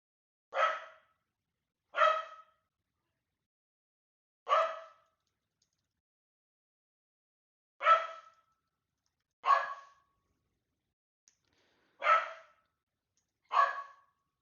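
A dog barks seven separate times, single sharp excited barks spaced a second or more apart, clear and close in an otherwise quiet indoor room.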